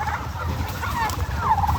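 Turkeys gobble and chatter inside a crowded turkey farm barn, overlapping warbling calls close by over a low constant rumble of the flock.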